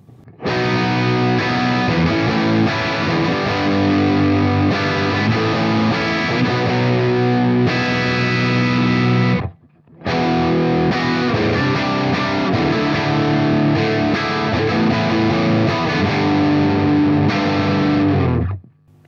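Electric guitar through a Hellstone Prodigy Tiberius amplifier on the bridge pickup with crunchy, half-clean half-driven tone; loud, sustained chords and riffs in two long phrases with a brief gap between, no voices.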